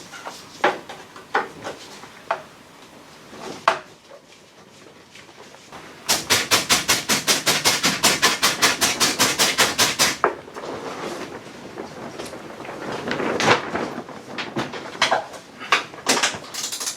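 A socket wrench backs out the screws of a Talbot Express camper van's side quarter-light window support. A rapid run of close ratcheting clicks lasts about four seconds, with scattered knocks and handling noises before and after.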